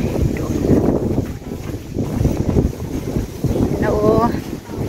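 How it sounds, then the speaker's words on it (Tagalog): Strong wind buffets the microphone at Big Wave Bay Beach in Hong Kong, a loud, continuous rumbling gust with surf-like wash behind it and a brief faint tonal sound near the end. "malakas yung hangin."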